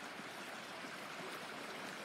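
Creek water flowing near a backyard path, a dense, even rushing and burbling wash that stays steady and close throughout, with no voices.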